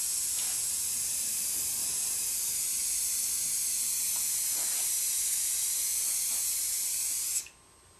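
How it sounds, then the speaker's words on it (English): Irox paraffin wax sprayed from an aerosol can onto a cross-country ski, a loud, steady hiss held about 1 foot away that runs unbroken for several seconds, then cuts off abruptly. "Once you've done that, you spray it on the ski."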